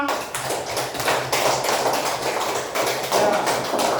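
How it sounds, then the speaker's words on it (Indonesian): Applause from an audience for the presenting groups during a classroom session in Ambon, a dense patter of clapping that swells and fades across the few seconds. "Berikan aplaus untuk kita semua."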